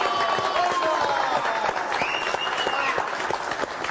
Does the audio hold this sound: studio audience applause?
yes